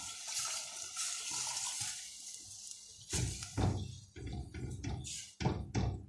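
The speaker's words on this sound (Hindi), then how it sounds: "अब राइस के हिसाब से मैं इसमें पानी डालूँगी" Water poured into rice inside a pressure cooker while preparing chana dal, a steady splashing pour running close to the mic, then broken into several short bursts and splashes.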